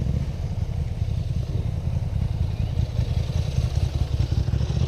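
Motorcycle ridden along a road on the Canterbury peninsula toward Akaroa in early morning: a steady, continuous engine drone with road and wind rumble, close and loud, no talking.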